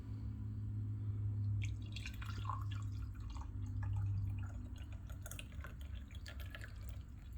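Caramel apple flavored coffee pours and drips into a cup, a steady low trickle with scattered splashes, close by and fairly quiet.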